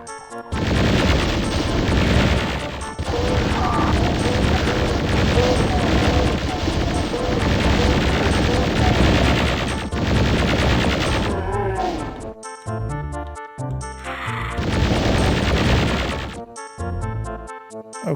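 Rapid gunfire and explosive blasts from a 1998 Doom WAD, DeadSoul, fill the scene loudly and almost continuously, with dense bursts of shots, then a few sharper separate shots near the end.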